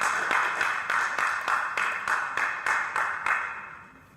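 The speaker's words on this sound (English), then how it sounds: "let's give a hand clap for those who participated" Conference audience clapping in unison, about a dozen evenly spaced claps in a steady rhythm, fairly close and loud, tapering slightly toward the end with no talk over it.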